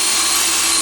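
A power drill whirs continuously at high speed while drilling into a wall to mount a towel radiator, a brief, steady, loud mechanical whine with no talking.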